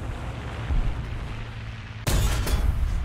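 One heavy tank cannon shot in War Thunder cracks out as a sudden loud boom after a steady engine rumble, with a brief echoing tail.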